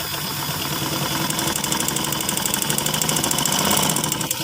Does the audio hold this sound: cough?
no